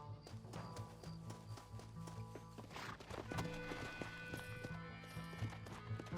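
Horses galloping and clip-clopping in Red Dead Redemption, steady hoofbeats running throughout alongside a dense orchestral game score, with a brief whinny and occasional faint voices underneath.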